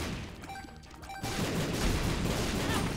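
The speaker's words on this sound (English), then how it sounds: "Who is basically just all about explosions. Like, his attacks all explode." Ultra Greed's exploding attacks in The Binding of Isaac: Repentance, a sudden dense burst of booming, crashing blasts that continues as a loud, noisy barrage after a brief quieter stretch of chiming game sounds.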